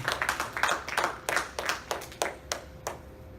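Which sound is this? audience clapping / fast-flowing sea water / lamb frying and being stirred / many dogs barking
audience clapping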